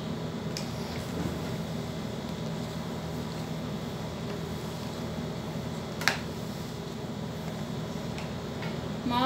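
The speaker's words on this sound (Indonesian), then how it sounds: "Maaf ya agak berisik, ini suara AC" Air conditioner running in a room during hot summer in Mecca, Saudi Arabia, a steady broadband hum and whoosh with a few faint clicks and ticks, no talking.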